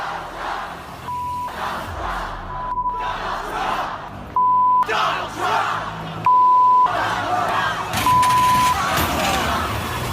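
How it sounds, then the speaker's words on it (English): Protest crowd filling city streets against President-elect Donald Trump, a dense roar of shouting and chanting voices with repeated steady electronic beeps cutting in over the din. "people filling the streets in America's cities, protesting President-elect Donald Trump"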